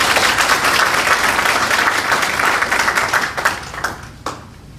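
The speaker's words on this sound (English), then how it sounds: "let's give her a round of applause" A conference audience at a State of Black Connecticut Alliance event gives a dense, loud round of applause that holds steady, then thins out into a few last scattered claps and fades.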